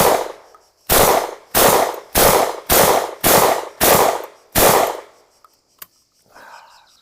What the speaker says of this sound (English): Let's try a few shots.